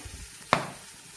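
Harira ingredients hitting a hot pot to sauté, a single sharp sizzle that flares up and quickly fades, alone and close.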